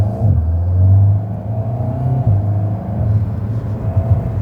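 An Alpine A110 GT 2023 engine hums and revs as the car pulls away, heard from inside with a steady low rumble rising in pitch.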